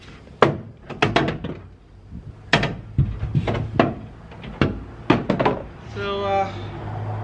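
Hammer blows knocking a dent out of a damaged door panel on a rat rod style van, a run of sharp metallic thunks in irregular bursts, close and loud, ending in a short ringing tone.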